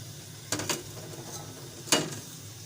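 A spoon scrapes and clinks against a bowl while mixing the ingredients for a sweet and sour chutney: two quick strokes close together, a pause, then one firmer scrape, near and fairly quiet.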